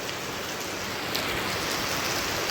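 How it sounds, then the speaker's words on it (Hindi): Heavy rain pours steadily near the Beas river in hilly country, a dense, loud, unbroken hiss of falling water with no voices. "बारिश स्टार्ट हो चुकी है और अच्छी खासी बारिश शुरू हो चुकी है"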